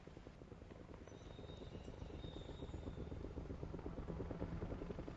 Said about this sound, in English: Is that how a helicopter's supposed to sound?